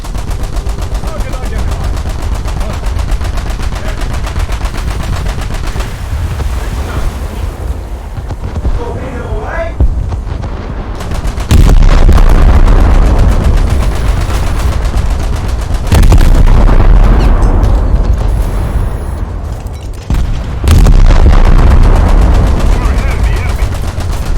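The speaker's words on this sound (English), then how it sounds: "we can shoot at these" In War Thunder, a German Leopard destroyer fires at small speedboats in a naval battle, with long, rapid bursts of loud gunfire over wind and engine rumble that swell louder in the later stretches.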